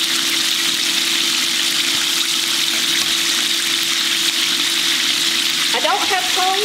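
Bone-in chicken frying in a skillet gives a steady, dense sizzle throughout, with a brief scrape near the end as a piece is turned over.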